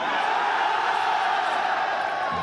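Crowd noise at a Call of Duty: Black Ops 6 esports event, a steady wash of cheering and whooping from a large audience that holds evenly loud for the whole moment.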